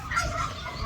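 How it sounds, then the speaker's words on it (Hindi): A white peacock in a nature reserve aviary gives a brief honking, gobbling call, close and moderately loud, lasting under a second. "सफ़ेद वाले बड़े नायाब मोर हैं।"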